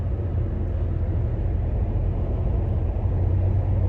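Steady in-car road rumble and tire noise from a 2002 Mitsubishi Lancer cruising at highway speed around 65–70 mph, a constant low drone with no voices.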